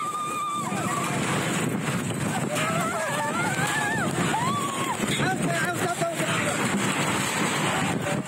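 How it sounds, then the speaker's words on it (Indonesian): Strong gusts tear across rows of small-business market tents and a main stage in Mamuju, West Sulawesi, roaring steadily throughout while panicked voices shout and cry out over the rushing wind. "Angin kencang tiba-tiba menyapu sejumlah tenda UMKM milik warga hingga membuat panik."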